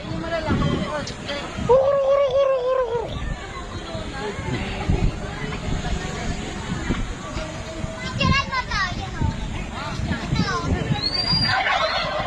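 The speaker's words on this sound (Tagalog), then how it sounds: "Mga pabo." Turkeys gobble in bursts amid a noisy outdoor scene, with children's voices and chatter throughout.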